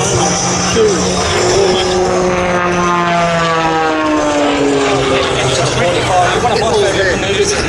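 Propeller aerobatic aircraft at the Wings Over Illawarra airshow, rolling over the top into inside diving snap rolls, a loud sustained engine drone with shifting pitch, steady and close throughout.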